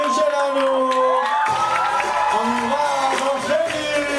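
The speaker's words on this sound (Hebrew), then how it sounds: "חבר'ה, לקבל במחיאות כפיים סוערות את המורים שלנו!" A crowd cheers and shouts loudly for teachers at a school crowning ceremony for a boys' class, with whoops and shrill whistling tones rising over a dense, continuous roar.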